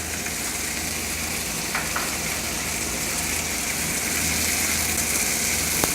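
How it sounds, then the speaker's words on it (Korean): Green beans stir-fry in a hot pan beside a steak, giving a steady, dense sizzle that stays close and continuous throughout, with no talk. "그러면 한쪽에 고기를 익히는 도중에 반대편 공간에 그린빈을 볶아 볼게요."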